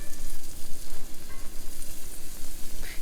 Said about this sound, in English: and then we're going to cook those mushrooms. When they stir so they all get coated.